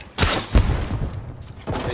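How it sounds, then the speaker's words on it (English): Bow shots fired in Fortnite Battle Royale, a few quick thumping releases and impacts spread across two seconds amid game noise. "Maverick, can you stop shooting the bow, please?"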